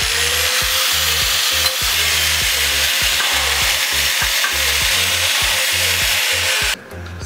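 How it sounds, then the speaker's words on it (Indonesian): An angle grinder cuts through thick metal about 3 to 4 mm, a loud, continuous gritty roar with rhythmic pulsing bursts as the disc bites, close up, no talk, stopping abruptly near the end. "Sekarang kita coba membelah atau memotong logam yang tebalnya di atas 1 sampai 2 mili."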